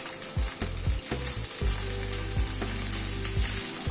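Fish sizzles as it fries in a pan with ginger and green chili, a steady loud crackle interrupted by a few clanks and scrapes of stirring, with no talk.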